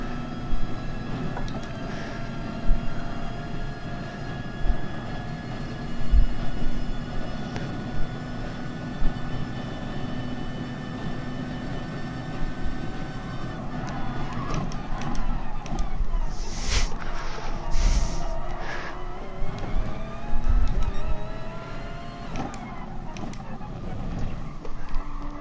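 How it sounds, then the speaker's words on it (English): A race car in a racing video game accelerates hard out of a corner during an FIA Nations Cup race, its engine droning steadily, then climbing in pitch as it builds speed. "That acceleration straight out of the corner, eh? Just boom, straight up to speed."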